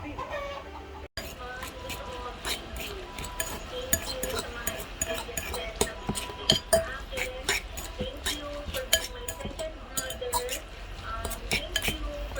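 Lumpia shanghai filling with egg being stirred in a bowl, giving a busy run of clinks, scrapes and soft wet mixing sounds against a steady background hum with occasional clucking fowl nearby.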